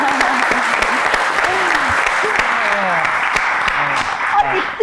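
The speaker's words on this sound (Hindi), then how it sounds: "तालियां" A studio audience on a talk show bursts into sustained applause, loud, continuous clapping filling the room, with a voice talking faintly beneath it.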